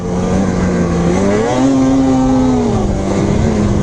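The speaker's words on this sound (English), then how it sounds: "First things first, the engine." A 2019 Polaris 850 Switchback Assault snowmobile engine runs steadily and loud, its pitch climbing slightly as it revs, with no talk.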